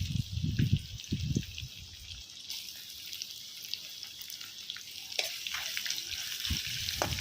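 Sliced onions drop into a pan of fried mustard seeds over a rice-husk stove; a soft, even hiss of frying builds and carries on, with a few faint clinks and taps.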